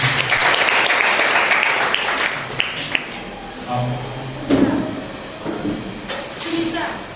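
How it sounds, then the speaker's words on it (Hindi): A congregation at a Sunday morning church service applauds a newcomer: loud, dense clapping for about three seconds, then fading into scattered claps and room sounds. "जोरदार तालियों से स्वागत"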